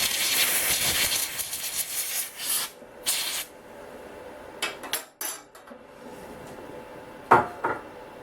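Compressed air blowing lint off the throat plate of a Blue Sky 1501 sewing machine: several close hissing blasts of varying length, a strong one at first, then short spurts with quiet gaps, and a final sharp puff.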